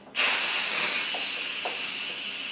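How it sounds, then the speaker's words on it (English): An Instant Pot pressure cooker's steam release valve switched to venting bursts into a loud, steady hiss of escaping steam that starts abruptly and holds on with only a slight fade. "move it to venting very carefully because there's still gonna be steam that's gonna escape"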